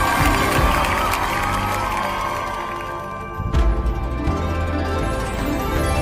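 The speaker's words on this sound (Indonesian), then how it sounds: "Sorak-sorakannya dulu dong." An audience at an event finale cheers and shouts in a dense, loud, continuous roar of voices, with a brief clattering burst partway through before the crowd noise carries on.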